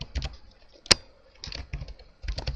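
Keys on a computer keyboard are tapped in short, quiet bursts of clicks separated by pauses, with one sharper keystroke standing out.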